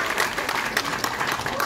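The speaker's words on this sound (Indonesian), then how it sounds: "Tepuk tangan dong guys." Audience applause at a gathering of young volunteers, a short burst of dense, steady clapping from a crowd heard close and fairly loud.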